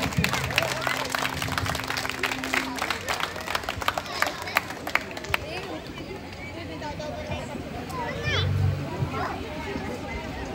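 Audience applause at a Rabindranath Tagore tribute stage event, rapid scattered clapping from a crowd mixed with chatter and children's voices, tapering off partway through as murmuring continues.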